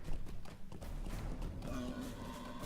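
Horse hooves gallop steadily in the online game The Lord of the Rings Online, a continuous rapid clopping mixed into a dense wash of ambient game sound, with no talking.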